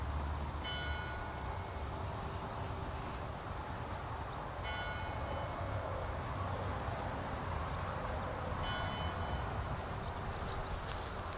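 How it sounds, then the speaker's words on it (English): Outdoor bell ringing at a plein air painting spot, three faint, evenly spaced metallic strikes with long ringing tails over a steady background hum. "I have no idea what that bell means."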